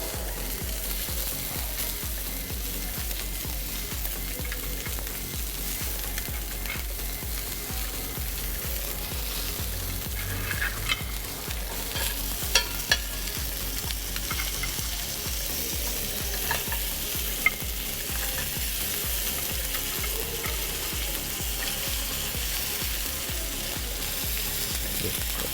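Shrimp, white oysters and oysters cooking in a clay pot give off a long, even sizzle and bubbling hiss, steady throughout, with a few faint clinks and knocks near the middle.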